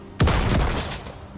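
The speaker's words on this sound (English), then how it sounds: "Was there somebody shooting behind me?" A single loud blast in the video game Star Citizen, a sharp boom with a rumbling tail that fades over about a second.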